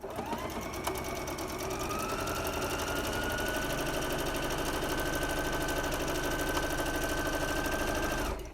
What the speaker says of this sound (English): I'm going to sew on that second line.